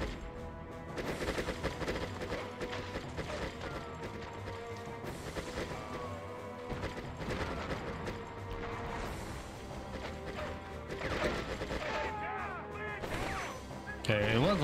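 A tank fires during a hard mission in the video game Conflict: Desert Storm, with heavy booming blasts and crashing gunfire in a dense, continuous battle mix.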